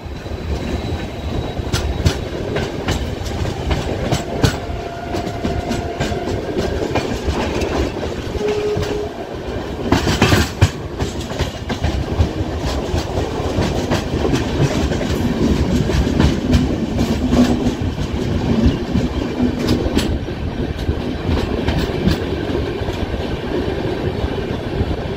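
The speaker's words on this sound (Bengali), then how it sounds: "ট্রেন ক্রস করলো রাঙাপানি আর এরপরে কিন্তু আমাদেরকে নামতে হবে।" The 12343 Darjeeling Mail passenger train runs on the rails toward New Jalpaiguri with steady clickety-clack and rumbling carriage noise. Faint wheel squeals come and go, heard from inside the train with almost no talking.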